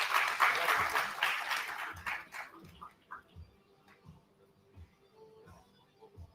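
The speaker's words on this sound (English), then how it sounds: "Let's applaud Kanish Gandhi." An audience applauds at a BBA inauguration ceremony, with a dense burst of clapping for the first three seconds that thins out and fades into scattered claps and room noise.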